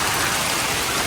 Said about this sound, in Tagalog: at bigla pong umulan.